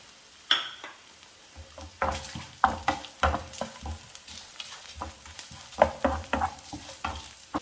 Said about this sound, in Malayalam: മുളകൊക്കെ ഒന്ന് മൂത്ത് വന്നിട്ടുണ്ട്